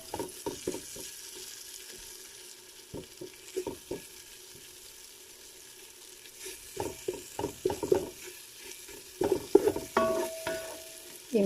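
Garlic fries in a pan while being stirred for Bukhari rice with chicken, with irregular scraping strokes and soft sizzling, quiet at first and then busier and louder toward the end.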